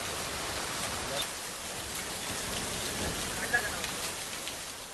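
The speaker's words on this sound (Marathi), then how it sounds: "वसई विरारमध्ये सुद्धा मुसळधार पाऊस सुरू" Heavy monsoon rain pours down in Vasai-Virar, a dense, steady hiss of drops on surfaces with no break throughout.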